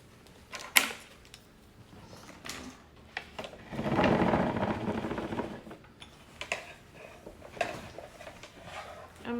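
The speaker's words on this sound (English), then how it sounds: "I'm going to start by sewing the top part of the mask there" A sewing machine stitches the top of a filtered fabric mask, with a short steady mechanical run in the middle, surrounded by scattered clicks and handling taps close by.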